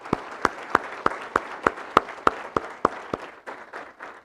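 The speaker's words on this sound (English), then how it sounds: "So let's give Chris a nice big round of applause" A single pair of hands claps in a slow, even rhythm, about a dozen sharp, close claps, against a thin background of applause at a touchdown club banquet. The claps soften toward the end.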